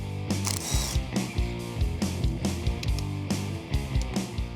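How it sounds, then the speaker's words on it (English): A ratchet clicks steadily and rapidly at close range while unbolting the power steering and fuel pumps from the engine of a hearse being rebuilt for the drag strip. "Then we'll unbolt our power steering and fuel pumps."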